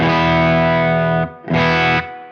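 Guitar played through a Synergy Z Wreck preamp set for a clean tone: two ringing chords, the first held just over a second, then a short gap before a second chord that sustains and fades, played alone.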